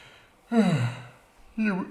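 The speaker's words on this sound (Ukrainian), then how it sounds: "Для чого ти позіхав?" A person yawns aloud, a drawn-out voiced exhale sliding downward, followed about a second later by a second, shorter yawn-like breath.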